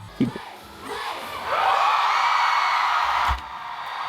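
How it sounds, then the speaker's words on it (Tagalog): A crowd of fans at a music group's debut day event shouts and cheers, swelling into a loud sustained roar midway after a few brief nearby voices and thumps. "Sigawan tao."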